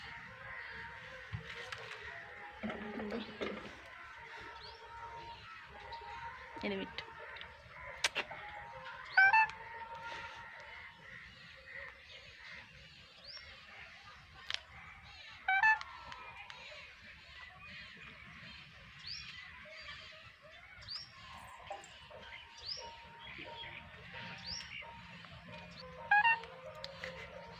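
A pet parrot mimics a mobile phone ringtone in a few short, shrill tonal bursts spaced several seconds apart, over a quiet room with faint background voices.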